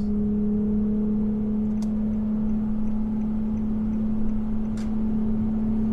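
A steady low exhaust drone hums inside the cabin of an Infiniti G35 with stock headers, ISR test pipes and an HKS axle-back exhaust, constant and droning over road noise, with a couple of faint clicks.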